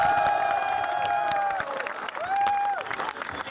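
A large outdoor crowd at a political rally in hot sun claps and cheers for itself, with tonal whistling or shouting rising over the applause; moderately loud and continuous, fading slightly midway.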